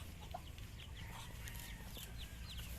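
Mother hen on a backyard poultry farm clucking to call her chicks into her brood, her soft repeated clucks mingled with faint bird chirps over steady low background noise.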